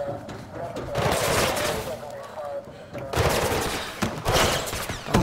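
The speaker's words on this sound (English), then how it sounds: "You're getting shot at like crazy." Turret gunfire in the game Mirror's Edge Catalyst rattles in dense, rapid bursts, loud and close, in two long volleys with a short lull between, under occasional talk.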